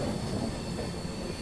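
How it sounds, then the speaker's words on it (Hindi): An express train pulls out of Shamgarh station, heard from inside the carriage as a steady low rumble of wheels on track with faint rattling and a thin high whine, continuous and moderately loud. "फिलहाल अपनी ट्रेन शामगढ़ स्टेशन से अब निकल रही है"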